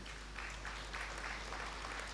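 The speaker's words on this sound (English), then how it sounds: "Mr. Segun Aina OFR FCIB, please a round of applause for him again," Faint, steady applause from a conference audience at the 50th CIBN annual banking conference, a soft continuous patter of clapping far from the microphone with hum underneath.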